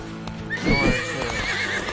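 A video game horse in Disney Infinity whinnies loudly and close, a bright rising neigh over soft background hoofbeats.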